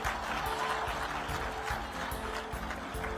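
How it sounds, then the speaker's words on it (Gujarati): An audience at a student scholarship ceremony breaks into sustained applause: many hands clapping steadily and fairly loudly, with the crowd's clatter rising and falling slightly. "એના તાળીઓથી વધાવવો પડે."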